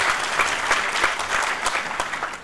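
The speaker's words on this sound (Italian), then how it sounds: "a cui facciamo un bel applauso." An audience applauds a guest professor at a public lecture, a lively, fairly close round of clapping with individual hand claps popping out of the steady roar, no speech over it.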